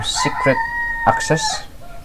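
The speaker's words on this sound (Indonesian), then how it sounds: "maaf untuk teman-teman semua kalau kalian mendengarkan ada ayam bernyanyi" A rooster crows nearby in two long, bright calls, its voice rising and falling, while a person talks at the same time.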